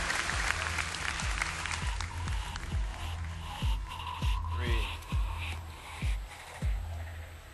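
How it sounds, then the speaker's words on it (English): A crowd at BlizzCon 2010 applauds steadily after a Diablo 3 Q&A panel, dense clapping with occasional cheers rising above it, continuous throughout. "Everybody give them a round of applause."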